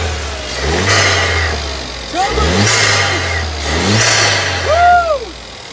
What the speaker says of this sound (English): So, do you want to start it up, boy?